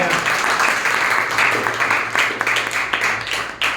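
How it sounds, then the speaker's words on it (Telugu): A church congregation at a Sunday service claps together in a loud, sustained burst of applause, with a voice faintly heard underneath. "చప్పట్లు కొట్టండి."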